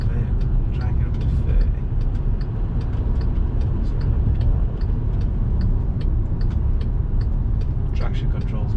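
VW Amarok pickup driving around a roundabout, a steady engine and road-noise rumble heard from inside the cab at low speed, with faint clicks and knocks scattered throughout.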